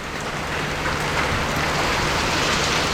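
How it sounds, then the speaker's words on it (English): Hard rain pours down steadily outdoors, a dense, loud, continuous hiss with no pauses and no voices over the full stretch. "That's a hard little rain."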